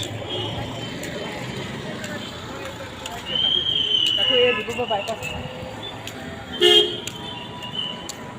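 Vehicle horns toot in busy road traffic near a hospital, two short honks rising over the engine hum and passing traffic, mid-distance, while a person talks.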